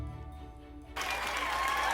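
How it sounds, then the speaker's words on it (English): Sudden loud cheering and applause from a group in a children's Bible story lesson bursts in after about a second of low hum, then keeps going steady and dense to the end. "Let's all cheer for Joseph!"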